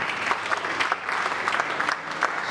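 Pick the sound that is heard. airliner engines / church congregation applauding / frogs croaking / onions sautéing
church congregation applauding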